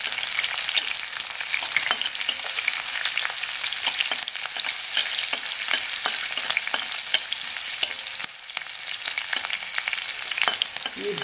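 Green chilies frying and being stirred in hot oil, a dense steady sizzle with scattered crackles and spoon scrapes, close and continuous, no voices.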